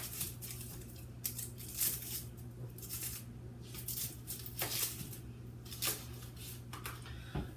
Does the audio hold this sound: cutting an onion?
yes